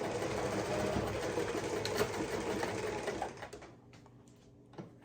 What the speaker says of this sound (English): as we're sewing over all of these layers over both